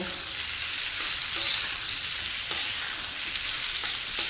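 Bitter gourd fries in a pan for shukto. A constant close sizzle is broken by a few scraping stirs of the spatula.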